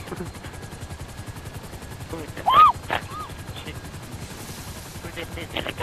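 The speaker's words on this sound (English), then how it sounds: "Who's in this helicopter?" Attack helicopters such as an Annihilator or Savage in a multiplayer video game, with a steady rapid rotor chop that runs throughout, along with bursts of gunfire and a brief whistling sweep in the middle.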